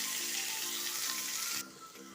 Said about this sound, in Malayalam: ഇത് നമുക്കൊന്ന് വഴറ്റിയെടുക്കാം. എല്ലാം അല്പം ഒന്ന് വഴണ്ട് വരട്ടെ